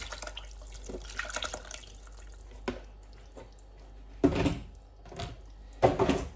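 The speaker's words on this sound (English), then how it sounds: "So now I will pour this water from the meat" Water from cooked meat is poured off in a kitchen while preparing a Caribbean souse dish. Quiet drips and trickles come first, then two short splashing pours near the end.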